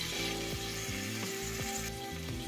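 Tomato wedges go into frying ginger garlic paste, giving a continuous sizzle under a repeating mechanical whir and clicking pattern, all fairly quiet and without speech.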